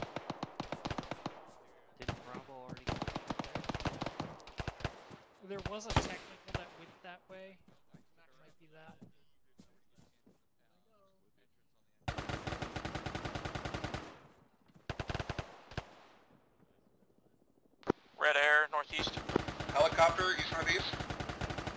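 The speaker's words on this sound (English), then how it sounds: "There's something shooting us from the east southeast." Incoming gunfire aimed at a squad in the military simulation game Arma, heard as bursts of rapid shots in several clusters separated by quieter gaps, sometimes distant and sometimes close, with people talking over parts of it.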